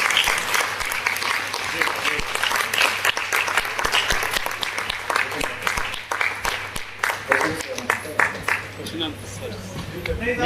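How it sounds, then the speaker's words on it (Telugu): A big round of applause at a gathering, with crowd clapping in sharp, dense bursts that thin out at times, mixed with talk and a low steady hum. "ఒకసారి సార్ వచ్చేసి బిగ్ రౌండ్ అప్లాజ్ అండి"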